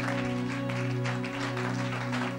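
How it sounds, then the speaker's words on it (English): A church congregation claps together while standing, a steady wash of hand claps over sustained musical tones throughout. "Give a better clap of hand unto God."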